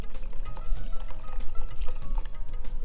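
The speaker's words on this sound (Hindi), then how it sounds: "इसलिए हम इसमें गर्म पानी डालेंगे।" Hot water poured into thin dal in a pot, a steady close liquid pour with gurgling, no talk.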